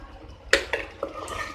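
Pressure cooker lid being opened after cooking tomato rice, giving a few close metallic clanks and scrapes in quick succession.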